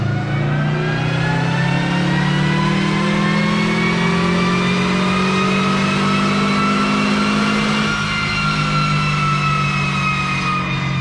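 A Subaru Legacy with an old 2.2 liter closed deck block revs on a dyno, one long loud sustained pull whose pitch climbs steadily and then eases near the end, with no voices over it.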